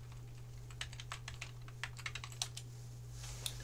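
A command is typed on a computer keyboard: quiet irregular key clicks in short bursts, faint against a steady low electrical hum, with no voices.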